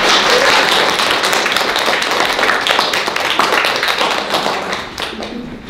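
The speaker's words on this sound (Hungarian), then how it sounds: "A Jázmin bátorítsuk egy tapsal." Dense, sustained audience applause at a Hungarian literary celebration, greeting a young performer named Jázmin; many hands clap loudly and continuously before thinning slightly toward the end, with faint voices underneath.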